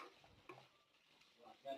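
Beetroot being stirred with red chilli powder in a pan, a spoon scraping and shuffling through the mix in soft, irregular strokes with a faint sizzle underneath, close and fairly quiet.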